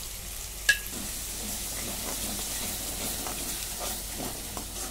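A yogurt and spice mixture fries for shahi paneer with a steady, soft sizzle, broken early by one sharp clink of a utensil and a few faint stirring scrapes.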